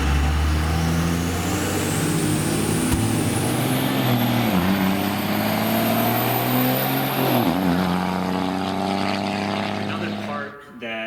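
A diesel vehicle fitted with a reverse-pattern manual valve body drives in first gear and slows, its engine drone steady and loud with the pitch sliding down through a couple of audible shifts in load, while a person speaks over it.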